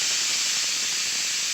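Steam hissing hard from a pressure cooker whistle while vegetable biryani cooks, a loud, steady, close rush of sound holding unbroken throughout.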